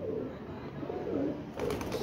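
Low, soft pigeon cooing murmurs steadily at close range on a rooftop in Gujranwala, with a brief brighter rustle near the end.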